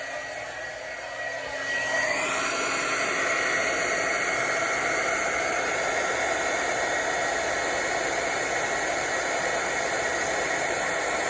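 A heat tool embossing the white image on a handmade card blows a steady, loud airy roar that switches on after a brief quieter moment and runs unbroken close by.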